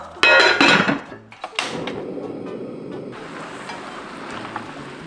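A metal pot lid clattering down onto a pot while blanching greens for Korean namul, a couple of sharp loud clanks followed by a quieter settling rattle and soft background hiss.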